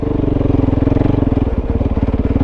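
A Kove 450 off-road motorcycle fitted with a 230.1 tune, off-road airbox and Dominator exhaust runs close by, its single-cylinder engine pulsing in a fast, steady rhythm with a slight dip partway through.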